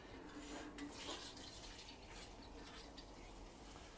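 Compost freshly sown with allium seed is given a thorough soaking, a steady trickle and patter of water running over soil in a tray, constant and fairly faint throughout with no talking.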